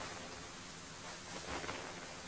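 Steady hissing rain in the video game Stoneshard forms a dense, even wash of noise with a few soft swells, moderately quiet and with no voices.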